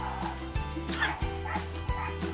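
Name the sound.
dogs barking outside a window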